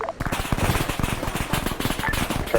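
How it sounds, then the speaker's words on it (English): Rapid automatic cannon fire rattles through a military video game campaign, a dense, loud burst of repeated shots spaced closely together and continuing without pause. "Charger 1 is taking some kind of cannon fire, unable to identify location"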